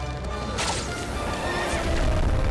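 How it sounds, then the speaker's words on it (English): A horse in Shadow of the Colossus gives a loud, close whinny over a rumbling game soundscape, heard alone without talk. "Come here, horse!"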